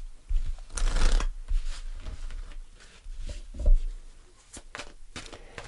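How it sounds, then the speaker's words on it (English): Tarot cards are shuffled in several quick riffling bursts with soft taps and pauses between, close and fairly loud, no talking. "I'm just going to shuffle one more time."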